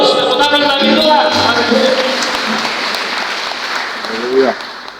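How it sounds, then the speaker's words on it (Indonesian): Congregation applauding at a Good Friday church service, a steady wash of clapping that thins and fades over several seconds while a voice and musical tones sound over it. "Tepuk tangan bagi Tuhan."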